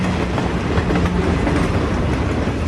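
A train runs loudly along a railway track, a continuous heavy rumble with clattering wheels that fills the whole stretch, with no voices over it.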